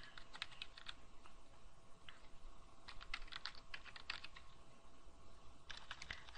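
Typing on a computer keyboard, quiet nearby key clicks in irregular bursts with short pauses between them, over faint room hum and no talk.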